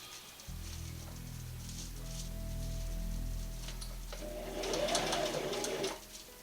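A sewing machine runs a simple single stitch through fabric for car window covers, a steady close mechanical whir that stops briefly and speeds up near the end.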